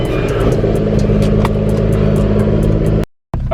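A car fitted with a new stage 3 turbo idles close by with a deep, rumbly, steady engine note that drops out briefly near the end.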